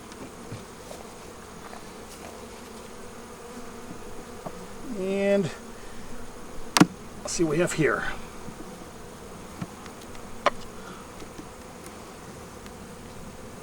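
Honey bees and nurse bees buzz over a frame of brood during a queen hive install, a steady close drone with louder passes of individual bees flying near, while a person speaks briefly.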